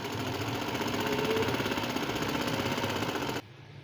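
An electric sewing machine runs steadily close by, stitching fabric along a neckline with a rapid, even mechanical chatter for several seconds before it abruptly stops, leaving a faint hum and no speech.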